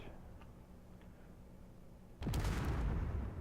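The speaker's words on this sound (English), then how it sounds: "Alright, that was a very delayed explosion." A warhead detonates in the Space Engineers video game after a long delay, a single loud boom that bursts out suddenly and rumbles on through the rest of the clip after quiet ambient hum.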